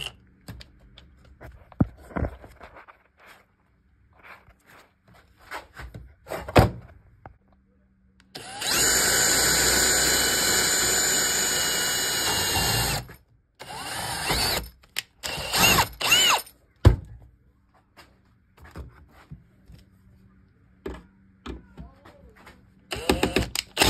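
A drill bores into an exterior door threshold in one loud sustained run of about four seconds, then a few shorter bursts, among scattered clicks and handling noises.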